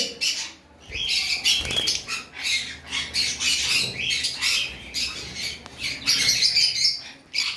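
Caged Fischer's lovebirds kept for sale give loud, shrill squawks and chatter in quick, overlapping bursts nearby, with some wing flutter and no voices.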